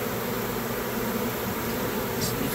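A honey bee swarm buzzing as it settles and walks into a new hive, a dense, continuous drone, loud and close, with no talk.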